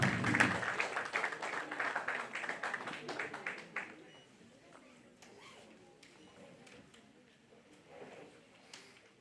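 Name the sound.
audience applause welcoming Sudha Murthy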